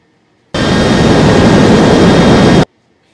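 A WestJet jet airliner taxiing in an air traffic control game: a loud, steady engine roar that starts abruptly, holds for about two seconds, then cuts off cleanly into silence.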